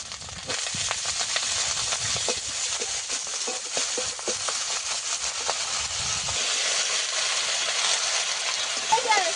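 Fried fish head, its frying oil and vegetables go into a hot pan, releasing a loud, steady hiss and sizzle that runs on throughout, with a few soft clatters near the start.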